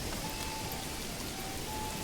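Rain falls steadily in the medieval strategy game Manor Lords, a continuous dense hiss of droplets spattering on surfaces, even and unbroken throughout.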